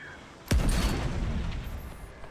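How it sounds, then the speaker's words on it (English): A warship's forward cannon firing in the naval battle game The Great War, one sudden loud deep boom followed by a long rumbling decay, alone. "he tried to fire his forward cannon on me"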